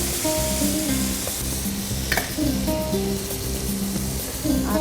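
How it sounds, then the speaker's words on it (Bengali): Chopped onion, green chili and coriander sauté in a hot pan with oil, giving a steady close sizzle broken by stirring scrapes and a few sharp clinks. "আমি একটুখানি সতে করে নেবো আর কি, পেঁয়াজ, কাঁচামরিচ প্লাস ধনেপাতা"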